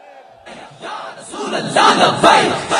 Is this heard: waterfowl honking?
no